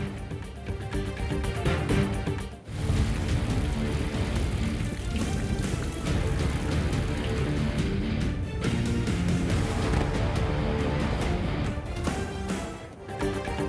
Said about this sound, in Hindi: सिर्फ 45 मिनट की बारिश ने कराची का नक्शा बदल दिया।